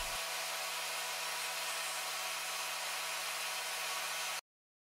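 An angle grinder chamfers the end of a steel rod, giving a steady, loud, high whirring grind with a faint low hum beneath, running unbroken for about four seconds before cutting off abruptly.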